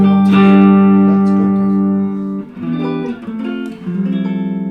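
Electric guitar played through a Maxon SD9 Sonic Distortion pedal into a small 5-watt amp: a long sustained distorted chord rings out, then shorter chugging chords and notes follow, loud and up close with no talking.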